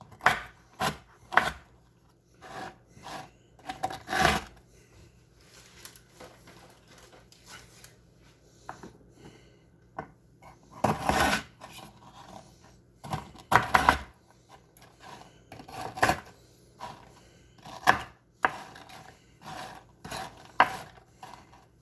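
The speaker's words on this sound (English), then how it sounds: "I'm just going to roughly chop some cookies." Knife roughly chopping chocolate peanut butter cookies on a board, with scattered sharp chopping strikes and rubbing scrapes in irregular bursts, close and moderately loud.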